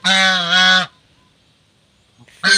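Chinese goose honking loudly and close, one long drawn-out honk followed by a short pause and the start of another.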